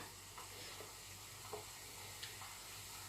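Folded chebakia pastry hearts frying in hot oil, a steady, fairly quiet sizzle and hiss with a few faint pops scattered through.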